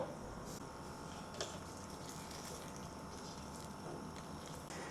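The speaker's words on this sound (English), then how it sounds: "bring it to a gentle boil." Water with braised beef for Cantonese beef stew heats toward a gentle boil in a pot, giving a faint, steady bubbling hiss with occasional soft pops close by and no talking.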